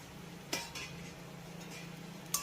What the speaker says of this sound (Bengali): কুদরিগুলোও আমি ডালের সঙ্গে এক মিনিটের মতো এইভাবে একটু নেড়ে চেড়ে কষিয়ে নেবো